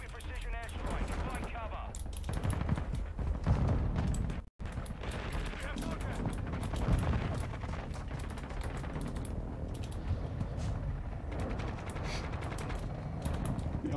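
An enemy precision airstrike in Call of Duty: Modern Warfare II brings a dense, chaotic barrage of explosions and gunfire, with a sharp cut near the middle and talk over the din.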